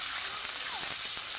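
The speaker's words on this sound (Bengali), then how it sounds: "হালকা একটু ভেজে নিচ্ছি।" Chicken mince lightly frying in a pan, a steady, close hiss of sizzling oil with faint stirring scrapes, no voices over it.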